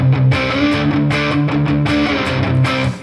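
Distorted electric guitar strums a series of power chords, loud and sustained, with chord changes roughly every half second over about three seconds and no talking.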